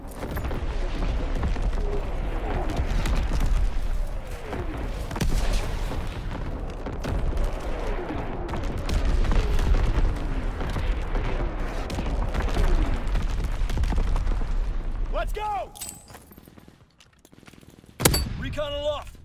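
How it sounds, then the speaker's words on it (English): In the Call of Duty: WWII video game, enemy artillery pounds in with rumbling booms and scattered gunfire over a long stretch, a voice speaking amid the barrage, followed by sharp sounds near the end. "Incoming enemy artillery. Get to cover."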